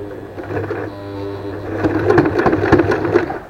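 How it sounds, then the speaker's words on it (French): A sewing machine stitches along a ribbon with a close, steady mechanical whir and rapid needle clatter that grows busier and louder after a quieter start. "on commence la couture légèrement avant le ruban"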